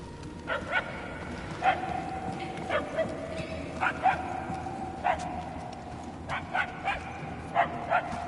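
A dog barks repeatedly at a distance, sharp yips arriving in irregular pairs and clusters over a low ambient background, faint rather than close.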